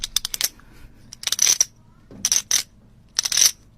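Several coins drop and clink in four quick bursts of bright metallic jingling, each lasting a fraction of a second, loud and close with short pauses between.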